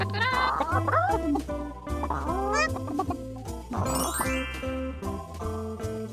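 Cartoon hens in a kids' farm counting game cluck in quick bursts, clear and close, over steady cheerful background music and a bright chime near the end.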